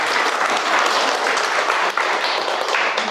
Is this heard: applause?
yes